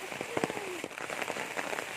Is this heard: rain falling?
yes